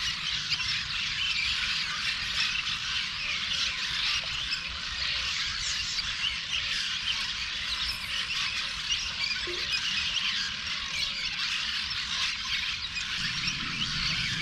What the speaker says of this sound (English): Got all these birds flying around under this bridge.